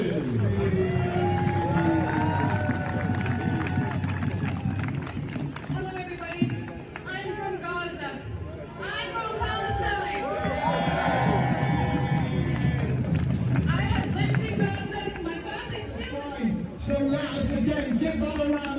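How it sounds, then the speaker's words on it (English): A protest crowd at a pro-Palestine rally in Manchester cheering and applauding for a speaker from Gaza, a continuous broad roar of claps, whoops and shouting voices, loud and close throughout. "I'm sure everyone is going to give a very big round of applause to Palestinian from Gaza"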